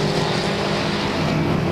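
Race cars roar down the backstretch at Claremont Speedway during weekly racing in 1996, a loud, continuous engine blare from several cars racing together close by.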